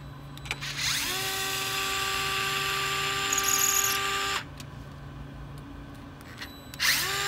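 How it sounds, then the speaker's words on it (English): A small power driver whirs steadily for a few seconds while unscrewing a screw to release the hot ends of a 3D printer extruder, stopping abruptly and briefly restarting at the end, close and fairly loud. "we're going to do that by unscrewing this screw"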